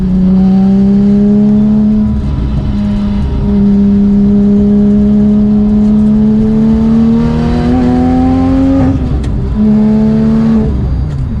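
A loud Porsche 911 GT2 (992) engine revs and climbs in pitch close by, holding high and rising again before easing off, with no talking.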